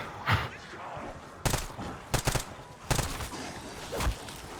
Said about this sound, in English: So I could show you how many bullets it is to kill a zombie without double tap.